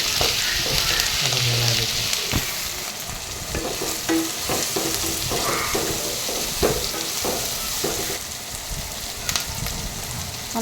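Capsicum fries in a pan at a local food stall, with a busy crackling sizzle broken by repeated scraping and knocking of a spatula as it is tossed, close and fairly loud.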